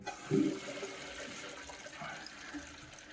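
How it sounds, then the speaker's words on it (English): Water rushes steadily into a toilet tank after the water supply is turned back on, a continuous close hiss and gurgle of refilling after a brief louder burst at the start. "Let the tank fill up."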